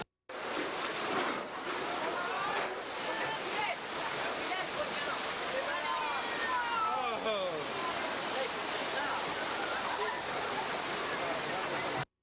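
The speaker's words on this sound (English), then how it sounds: "Water's gonna get on all sides of us." Water rushing and splashing on all sides of a tram on a Universal Studios tour ride, a loud, continuous roar of spray that starts abruptly and persists, with faint voices mixed in.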